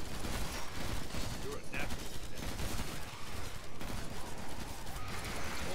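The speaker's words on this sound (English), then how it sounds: "I hear a lot of grenades being used." Chaotic Killing Floor 2 co-op battle with dense, rapid gunfire and grenade blasts overlapping continuously, loud and unbroken from start to finish.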